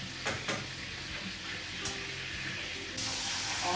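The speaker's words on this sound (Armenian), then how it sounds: "Հավը մի կողմի վրա արդեն 20 րոպե ինչ տապակում է, տեսեք ոնց եմ ծանրացրել այս կաթսան, հիմա շրջում եմ" Chicken frying in a heavy weighted pot as the pieces are turned, a steady close sizzle with a few clanking knocks from the pot and a louder hiss near the end.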